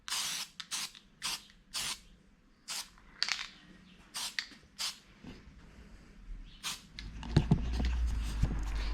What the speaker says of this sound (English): I will spray the back of that before I do anything else